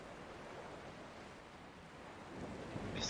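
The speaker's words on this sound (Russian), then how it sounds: "Бескрайнее море" Sea surf rolls in the game Dear Esther, a steady broad wash of waves that swells slightly louder toward the end, with no voices.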